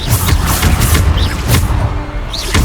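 Bombarda spells burst again and again in Hogwarts Legacy combat, loud punchy booms landing in quick succession amid a dense, noisy fight with whooshing spell effects.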